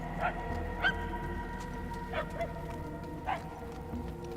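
A dog in a video game barks faintly in the distance, four short yips spaced irregularly over a low ambient hum.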